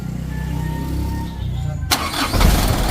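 A diesel engine with a newly replaced plunger cranks with a low rhythmic chug, then fires with a sharp crack and settles into a loud, rough running clatter.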